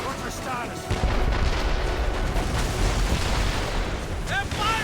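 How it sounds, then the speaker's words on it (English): Cannon fire booms from warships at sea in Assassin's Creed Rogue, heavy distant thuds and rumbling blasts layered with wind and crew voices shouting. "They're firing, sir!"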